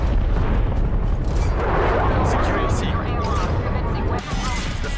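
A napalm strike explosion in the multiplayer game Call of Duty: Black Ops Cold War, a loud, sustained roaring burst with rumbling low end and crackling debris that fills the whole stretch, with players talking over it.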